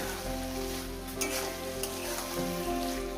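Spinach added to a hot pan for a Bengali palong shak curry with small fish sizzles and fries continuously, a steady crackling hiss with faint stirring scrapes, close and even throughout.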